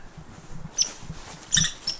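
Sharp, high-pitched squeaky chirps come in two short bursts, like a squirrel chattering outside, fairly faint over low background rumble.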